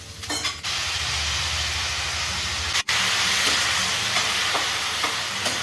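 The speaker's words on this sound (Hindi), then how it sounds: "अब इसमें डालेंगे जो सॉसेज हमने बनाई है" Homemade sausages hit a hot pan and sizzle loudly in a steady, close frying hiss, with a few stirring scrapes and a brief break partway through.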